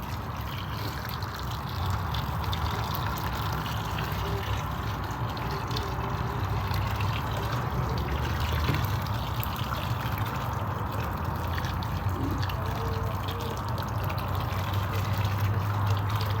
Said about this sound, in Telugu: నీళ్ళు అయితే దాన్ని ఫుల్గా పోతావు కదా